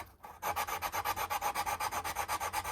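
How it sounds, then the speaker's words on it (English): Rhythmic back-and-forth sanding on the end grain of a wooden guitar body, about a dozen quick even strokes close up, with no voices. "It's important when you're sanding the end grain like this"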